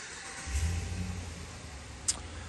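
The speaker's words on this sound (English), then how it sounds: "let's go ahead and start this beauty up for you guys" A 2021 RAM 1500 pickup engine cranks and catches, settling into a low, steady idle rumble heard close from inside the cab, with a single sharp click near the end.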